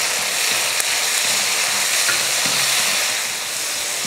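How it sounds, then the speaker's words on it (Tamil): Tomato sautéing with onion and garlic in a pan gives a dense, continuous high sizzle that stays even and close throughout, with faint clicks and stirring underneath and no talking. "ஒரு 5-6 பூண்டு பல், வெங்காயம் இந்த அளவுக்கு வதங்கினதுக்கு அப்புறமா தக்காளி சேர்த்துக்கலாம்."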